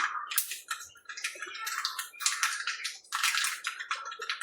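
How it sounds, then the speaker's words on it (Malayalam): Mustard seeds crackle and pop in hot coconut oil for cucumber pachadi, sharp irregular bursts of spitting and sizzling, close and fairly quiet, with brief gaps between clusters. "കടുക് പൊട്ടുന്നുണ്ട്."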